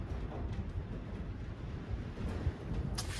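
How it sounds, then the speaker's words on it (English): Steady wind buffets the microphone on open plains in a low, rumbling roar that fills the whole stretch, with no talking over it. "today, it's windy, so you may not be able to hear anything I say"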